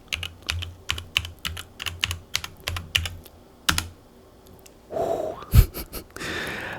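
Rapid bursts of keystrokes on a computer keyboard as a password is typed, several quick clusters of clicks close by, then a pause followed by a sharp exhale and rustling near the end.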